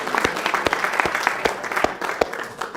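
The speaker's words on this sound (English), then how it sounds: "we're going to give you a big round of applause" A conference audience gives a round of applause, heard as a fairly quiet, sparse patter of individual claps spread over a few seconds.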